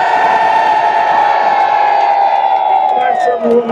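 A crowd of protesting farmers cheers and whoops together in one sustained, loud burst that tapers off at the end.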